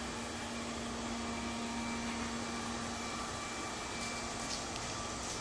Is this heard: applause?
no